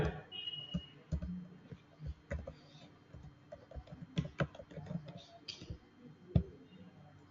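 Customer details are typed on a computer keyboard during an airline ticket booking: quiet, irregular clicks and taps up close, with faint background murmur.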